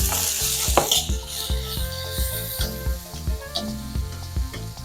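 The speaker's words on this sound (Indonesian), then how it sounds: "Ini Bunda oseng-oseng dulu sebentar teman-teman sebelum kita masukkan terongnya ya" Dried shrimp, shallots, tomato and green chili stir-fried in a pan, a steady loud sizzle with repeated scraping strokes of a spatula in a regular rhythm, close up and with no talking.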